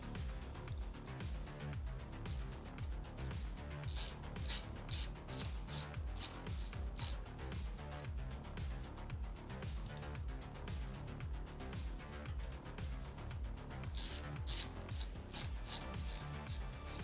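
Screws are driven into a PC case, giving quiet, rapid, repeated ratcheting clicks and scraping turns that come in bursts.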